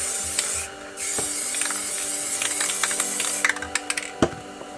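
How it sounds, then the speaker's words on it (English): A spray paint can hisses light blue paint onto a landscape canvas in bursts, with soft scraping and clicking handling noises, several short sharp taps near the end, close and moderately quiet. "I'm going to take the white, spray right under where the sun is"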